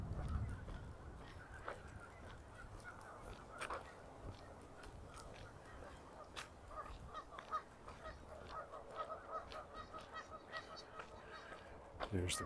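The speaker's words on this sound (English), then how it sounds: "Just listening to the geese" Geese honking far off across a lake on a chilly September walk in Regina, scattered calls rising faintly over steady outdoor ambience and footsteps.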